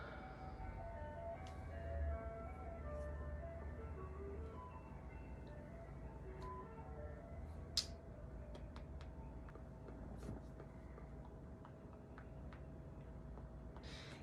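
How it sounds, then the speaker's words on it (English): An ice cream truck's music plays faintly in the distance, a thin steady melody held over a low rumble of background noise at night, with no talking. "where's the fucking ice cream truck coming?"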